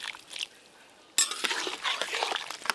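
Fish sour curry with fried fish and mustard paste is stirred in a pan, a quiet pause giving way to clattering scrapes of the spoon over a low simmering sizzle.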